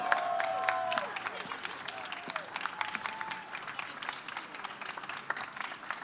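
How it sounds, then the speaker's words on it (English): Applause and cheering from a crowd at a startup pitch competition finale as the winner is announced, with whoops and whistles near the start over sustained clapping that settles into scattered claps. "Jason Shatsky, huge round of applause."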